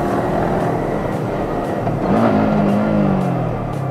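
Yamaha R15 V3 motorcycle accelerating in first gear, a loud continuous engine roar with rushing wind that swells in pitch midway and holds to the end.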